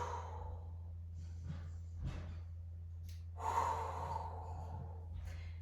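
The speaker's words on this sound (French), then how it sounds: "on sent qu'on est essoufflé un peu, mais on respire profondément" Heavy breathing after a HIIT workout, with slow, deep breaths and audible exhales and a louder gust of breath midway, over a steady low background hum.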